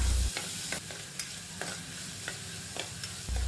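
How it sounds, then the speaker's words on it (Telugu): Vegetable pieces with tomato cooking in oil for moong dal rice: a continuous soft sizzle with light, irregular stirring scrapes throughout. "ఈ కూరగాయ పీసెస్ని ఆయిల్లో 2 నిమిషాల పాటు ఉడికించాలి."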